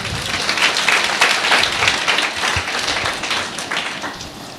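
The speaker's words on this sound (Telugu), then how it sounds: "గట్టిగా చప్పట్లు కొడదాం" A church congregation claps loudly and continuously throughout, a dense burst of many hands with no break and no talking over it.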